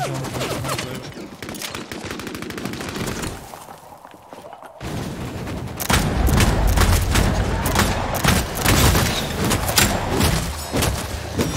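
Dense, rapid automatic gunfire from an Apex Legends match rattles continuously and loudly, bursts overlapping with booms and thuds, briefly dipping before surging back even heavier.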